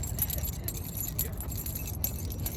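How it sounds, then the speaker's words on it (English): A bunch of keys jangles close by during a playoff consolation game, a continuous bright metallic rattling over a low rumbling hum, with no speech. "I'm going to get my keys out"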